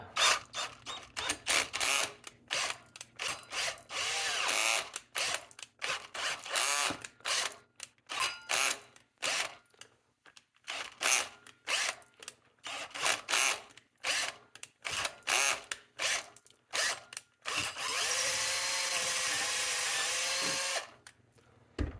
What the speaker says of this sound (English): I'm going to have to go through several bits to get there. The next bit up.